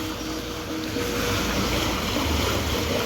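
Steady rushing floodwater from heavy rain fills the scene, a loud continuous wash of flowing current with wind buffeting the microphone throughout.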